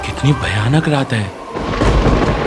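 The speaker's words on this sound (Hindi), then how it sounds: "बिजली कड़क रही है," A thunder crack rumbles through a stormy night, a deep broadband boom building in the second half under and after a person speaking fearfully about the night.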